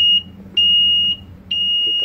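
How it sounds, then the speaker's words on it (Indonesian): A bilge alarm panel buzzer on a tugboat sounds in loud, piercing electronic beeps, repeating in long on-off pulses about every half second, close to the microphone with only a faint background hum. "Oke, buzzer hidup."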